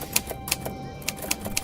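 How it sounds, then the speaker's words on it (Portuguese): Keys of an old typewriter in an attic clack in a quick, uneven run of sharp taps, close and clear over a faint steady hum. "deixando mais nítidos os tec-tecs das teclas da velha máquina de escrever no sótão."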